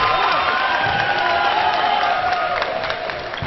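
Crowd noise at a men's Euro 2014 dodgeball match between Sweden and France, a steady roar of cheering and applause from a large audience that fills the whole moment, with bright whistle-like tones rising above it.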